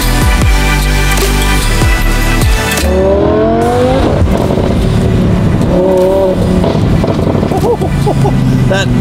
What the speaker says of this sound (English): That FI exhaust is mean.